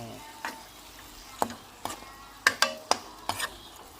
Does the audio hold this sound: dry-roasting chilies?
yes